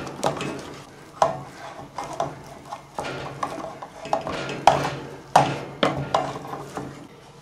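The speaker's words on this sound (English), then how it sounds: "Keep stirring." Homemade play dough mixture being stirred in a pot, a thick gloopy scraping with irregular knocks of the spoon against the pot, close and moderately loud, with no talk.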